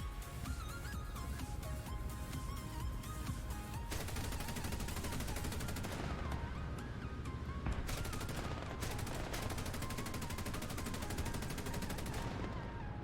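Gunfire rattles continuously during a War Thunder tank battle, a dense run of rapid, evenly spaced shots that stays loud and unbroken from start to finish, with no voices.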